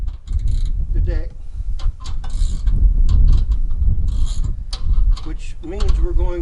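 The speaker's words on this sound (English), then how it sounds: "We're going to break this lock nut loose" A wrench loosening a lock nut on a Hustler Raptor mower deck, heard as loud, close metallic clicks and ratcheting clanks mixed with handling noise, with someone talking over parts of it.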